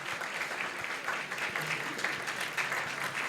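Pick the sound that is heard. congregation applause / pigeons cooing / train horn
congregation applause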